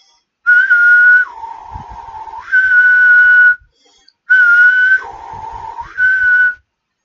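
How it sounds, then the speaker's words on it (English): A person whistles a steady tone, then drops to a lower pitch and returns, repeating the pattern twice in four sustained phrases with brief pauses, close and clear with no talking. "if I want to whistle that pitch"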